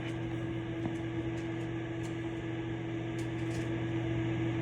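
Microwave oven heating a Japanese treat, a steady mains hum and fan whir running continuously and evenly throughout, close and fairly quiet.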